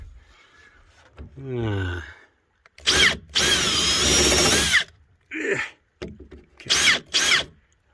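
A power drill whirs in several short bursts, revving up and down as it drives screws into wooden battens, with a brief voice near the start.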